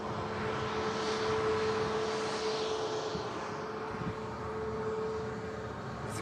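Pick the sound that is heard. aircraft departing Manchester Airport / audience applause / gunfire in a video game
aircraft departing Manchester Airport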